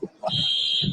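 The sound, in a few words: fire alarm going off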